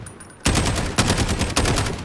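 SCAR rifle firing in Call of Duty, three loud close bursts of rapid automatic fire in quick succession, each a dense string of shots with no talking.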